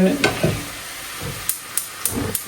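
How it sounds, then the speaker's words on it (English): Oil heating in a cooking pan gives a low, steady sizzle broken by a few soft clinks and several sharp metallic taps, fairly close, with no speech. "gonna heat up some oil in here as well for the carpenta"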